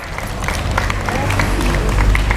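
Applause from ninth-grade student representatives at a Thursday morning Islamic study gathering, steady clapping from a group filling the room, moderately loud and sustained throughout.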